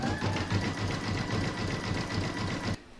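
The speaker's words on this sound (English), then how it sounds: "I'm now going to pop that back in my machine and stitch round number four," An embroidery sewing machine stitches a decorative edge on an in-the-hoop notebook cover, a fast steady mechanical chatter of needle strokes that stops abruptly near the end.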